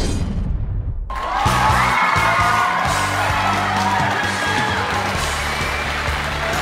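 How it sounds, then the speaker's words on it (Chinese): A studio audience at a televised confession show applauds and cheers loudly after a short pause, a dense crowd clapping with whoops that carries on steadily while music plays underneath. "我们掌声有请下一位告白者。"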